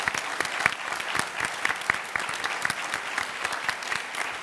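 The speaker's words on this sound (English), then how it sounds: "we should have a round of applause for Xander Berkeley" A Comic-Con panel audience applauds Xander Berkeley, with dense, steady clapping from a large crowd filling the room throughout, loud and close with many overlapping hand claps.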